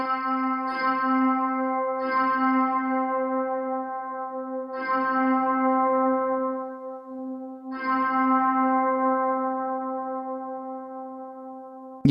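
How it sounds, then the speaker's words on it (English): Sustained electric guitar notes struck a few times through a Hologram Electronics Chroma Console pedal's reverb effect, each swelling into a long, washy reverberant tail that lingers and overlaps. "Definitely sounds like a reverb type of effect."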